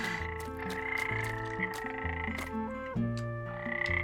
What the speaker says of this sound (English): the frogs playing instruments in this little group